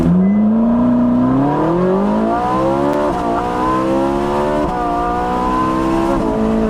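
A 2013 Ferrari 458 Spider convertible engine revs loudly and climbs in pitch through successive paddle gear shifts, close and continuous, with brief dips between gears.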